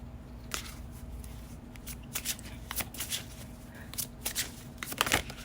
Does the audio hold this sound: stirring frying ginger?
no